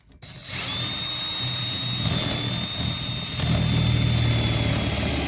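A power drill spins up and runs continuously at a loud, steady high whine, with its pitch dipping slightly as it bites.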